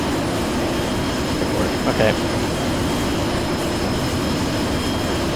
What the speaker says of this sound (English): Engines are still starting up.